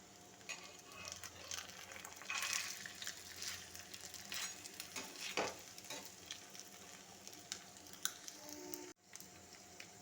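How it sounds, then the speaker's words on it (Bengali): Paneer pieces shallow-frying in a pan, a steady close sizzle with occasional stirring scrapes and clinks running throughout, no voices. "এইভাবে প্রত্যেকটি অল্প স্টিমে ভেজে নিতে হবে।"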